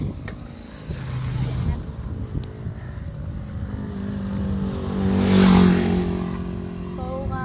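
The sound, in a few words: motorcycle engine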